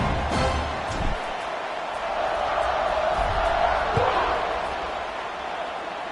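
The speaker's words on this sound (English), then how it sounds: "this crowd is buzzing after that last score" Large college football stadium crowd at a Western Michigan vs Illinois game, a steady broad buzz of many voices filling the clip, with a few louder thumps and shouts rising out of the roar.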